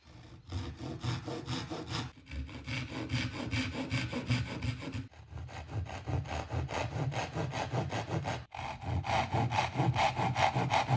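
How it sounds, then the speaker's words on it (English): A handsaw cuts into wood for a box joint recess, steady rhythmic back-and-forth rasping strokes close up, with a few brief pauses between runs. "I cut the sides of the recess with a handsaw"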